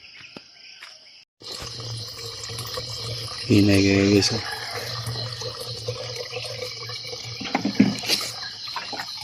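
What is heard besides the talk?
water from tap filling containers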